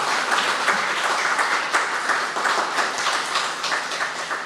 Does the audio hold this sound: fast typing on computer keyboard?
no